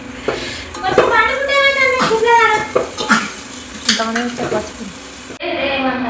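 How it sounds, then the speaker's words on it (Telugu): Chicken and fresh ginger fry and sizzle in a pan at close range, with stirring and clattering cookware, while voices talk over the cooking throughout. "కడిగి పెట్టుకున్న చికెన్ అయితే వేసేస్తున్నాం."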